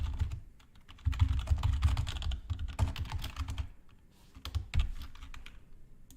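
Bursts of close computer keyboard typing, with quick runs of key clicks broken by short pauses.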